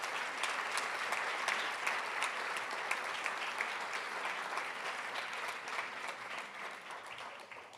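Steady, fairly distant applause from an audience at an honorary lecture celebrating the FVZS Institute's team members, continuous and even throughout with no talking over it.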